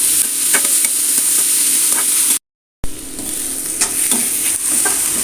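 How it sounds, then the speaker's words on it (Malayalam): Sliced onions sautéing in oil for prawn biryani, a loud steady sizzle with spatula stirring, broken by a short silent gap midway. "നന്നായിട്ട് വഴറ്റിയെടുക്കാം."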